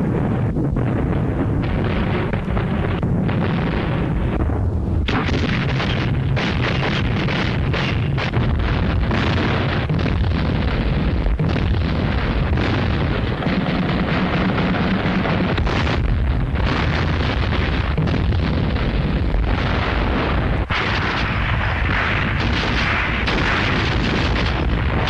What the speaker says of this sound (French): Dans la nuit du 11 mai, un violent tir d'artillerie précède l'attaque.